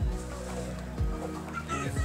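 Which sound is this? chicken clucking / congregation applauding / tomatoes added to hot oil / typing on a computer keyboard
chicken clucking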